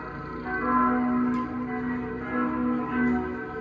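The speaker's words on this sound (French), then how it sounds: "En plus on a le droit aux cloches." Church bells ring at the church of Colonia Tovar, Venezuela, resonant tones humming and swelling at moderate distance over a few seconds, no speech.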